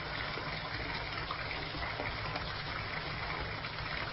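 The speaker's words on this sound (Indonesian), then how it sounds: "Air hangat di bathtub sudah penuh" Warm water gushes steadily from a tap into a bathtub in a horror radio drama, a constant faint hiss and splash with no voices.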